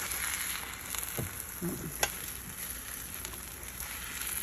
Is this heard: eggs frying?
yes